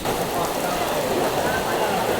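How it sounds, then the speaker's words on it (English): Heavy rain pours down outdoors near the Big Buddha in Hong Kong, a dense and constant hiss of drops hitting surfaces, loud and close throughout with no break. "The rain has started to come down"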